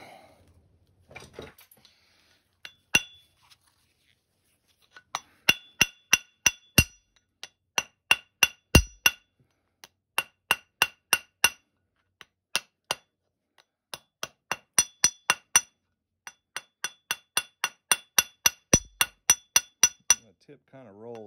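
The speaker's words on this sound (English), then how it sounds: "I do need to sharpen the tip a little bit." A Georgia rock arrowhead tip is sharpened with a copper tool during flintknapping: dozens of crisp, sharp clicks and snaps come in quick irregular bursts over near silence, close and clear.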